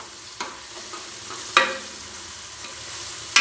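Ginger garlic paste frying with onions for beef curry, a steady soft sizzle broken by a few sharp scrapes and clicks of a spoon stirring the pan, close and fairly quiet, with no talking.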